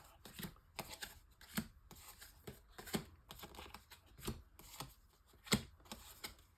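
Tarot cards are drawn and laid out for a reading, giving repeated soft crisp card snaps and slides at an uneven rhythm, close by and without any talking.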